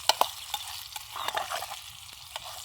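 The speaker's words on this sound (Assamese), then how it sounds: "মই ৰচুন এনেকৈ ভাজি পিনে বহুত ভাল পাওঁ" Garlic sizzles in oil while a spoon scrapes and stirs it at a camp cooking spot, a steady close fry broken by several sharp clinks and scrapes.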